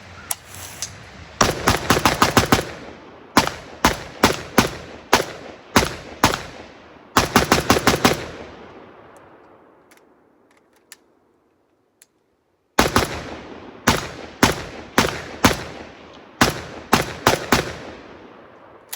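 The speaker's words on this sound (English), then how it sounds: "let's go ahead and shoot a little bit more and we'll close this out" A Zastava ZPAP 85 AK-pattern pistol firing its last magazine, loud sharp shots outdoors in fast strings and quick rapid bursts, broken by a pause of near silence before more shooting.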